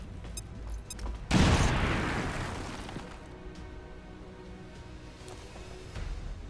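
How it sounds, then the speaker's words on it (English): A frag grenade detonates in XCOM 2: a single loud, close blast after a second of quiet, followed by a long rumbling decay and scattered debris. "So we're going to throw a frag right here."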